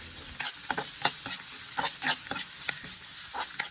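Baguio beans and carrots being stir-fried in a pan, with a steady sizzle broken by repeated scraping stirs of the spatula that come at an uneven rhythm, close and fairly loud, no voices.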